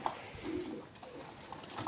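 Tumbler pigeons coo softly at a loft after a flight, a low murmuring call heard among faint outdoor background noise.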